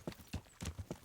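Horse hooves clip-clop in Kingdom Come: Deliverance, a steady walking rhythm of soft thuds, fairly quiet and close, with no talk over them.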